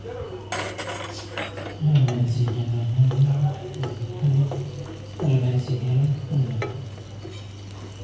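Mango cooks in a pan with turmeric, chili and coriander powder for a fish mango curry, giving a gentle sizzle under repeated metallic scraping and clinking of a spoon against the pan. A steady low hum runs underneath.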